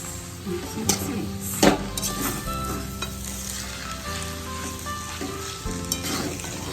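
Hakka noodles stirred and fried in a hot pan give a steady sizzle, with utensil scrapes and a few sharp clinks against the pan throughout.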